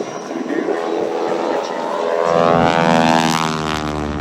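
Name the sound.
propeller airplane flying overhead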